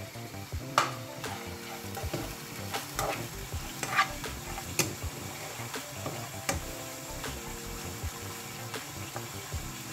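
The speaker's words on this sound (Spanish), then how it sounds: "Mientras la carne se está friendo y está tapada." Steady sizzling and crackling of meat frying in a covered pan for Mexican green pipián, continuous and close, with occasional louder pops and clinks.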